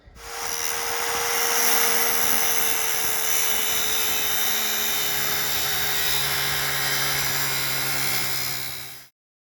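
A skill saw fitted with an abrasive wheel cuts hearth backer board for a wood stove installation in a mobile home, a loud, continuous high-pitched whine and grinding roar lasting about nine seconds before stopping abruptly.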